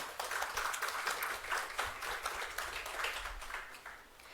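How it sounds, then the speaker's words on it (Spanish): An audience at a book presentation of Quechua wisdom and mental health in Peru breaks into applause, a dense, sustained patter of many hands clapping that fades slightly near the end. "pido un voto de aplausos"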